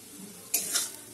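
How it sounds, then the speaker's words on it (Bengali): Water poured into a pan of cooking cashew and onion masala for a Bengali fish curry, a short sizzling splash lasting about half a second after a quiet kitchen background. "একটু জল দেবো"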